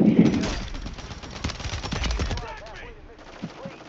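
Gunfire in Warzone 3 on the Rebirth Island map, Lockdown mode, comes as rapid, loud automatic bursts that rattle on for a few seconds and then thin out into scattered shots, with faint voices underneath.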